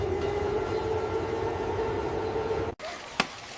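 A streetcar in Hiroshima rumbles and hums steadily nearby with a sustained motor whine, then the sound cuts off abruptly and one sharp click follows.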